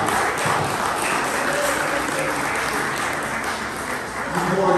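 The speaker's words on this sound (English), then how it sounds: "Let's give our musicians a round of applause." Audience applause for musicians at a grand opening celebration, a steady dense wash of clapping that holds loud and even from start to finish.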